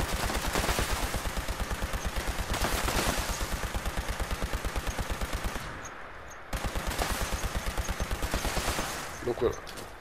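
Sustained automatic gunfire from a weapon in Fallout 76 fired continuously without reloading, a rapid steady rhythm of loud shots that briefly cuts out near the middle, then resumes.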